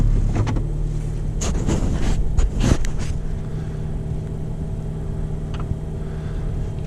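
Personal vehicle with a 6-speed automatic starting cold in snowy February weather: a steady low engine idle hums throughout, with a brief louder surge near the start, heard close with wind buffeting the microphone.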